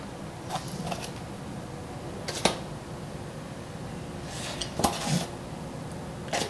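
A spoon stirs and scoops flour into a measuring cup for a chocolate layer cake, making a few sparse scraping and clinking touches against a quiet, hissy background.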